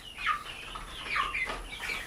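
Guinea keets and chicks kept together in a cage inside a chicken house chirp in a few high, fairly quiet bursts of overlapping peeping, with no talking.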